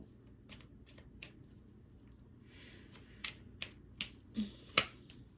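Tarot cards being shuffled by hand in a quiet room, a series of short crisp riffling bursts and taps, close and fairly soft, with no talking.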